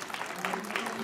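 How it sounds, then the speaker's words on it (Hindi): Short stretch of audience applause at a former teachers and students reunion at an inter college, a dense clapping wash with a faint tonal hum beneath. "एक बार जोरदार तालियां बजा दीजिए जरा आप सभी"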